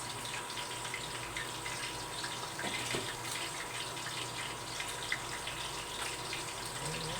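Water boiling in a pan of sinigang with boneless milkfish, a steady low bubbling and hissing rumble, fairly faint and continuous, with no talking.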